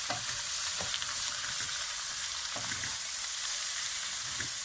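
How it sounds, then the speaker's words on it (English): Samosa vegetable filling of potatoes and mixed vegetables with salt being stirred in a pan, a steady broadband sizzle with several soft scraping knocks from the spoon spaced through the stir, close and even, with no talking. "then you give everything a nice stir"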